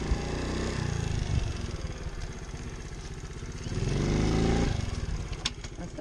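A pit bike engine drones steadily up close during a circle wheelie attempt, rising briefly in a rev before settling again.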